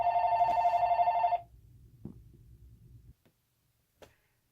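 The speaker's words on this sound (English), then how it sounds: "I got a phone call, so I had to pause it and take it" A telephone bell rings loudly and steadily for about a second and a half, then stops, leaving a low background rumble and a couple of faint clicks.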